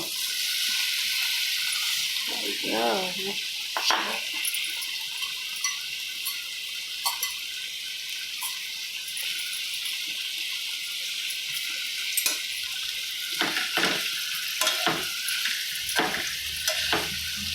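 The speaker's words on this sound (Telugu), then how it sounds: "ఆయిల్ వేడెక్కిన తర్వాత వేసుకోవాలి." Paneer curry ingredients go into hot oil in a pan, setting off a steady nearby sizzle with occasional crackles, pops and stirring sounds over the whole stretch, without speech.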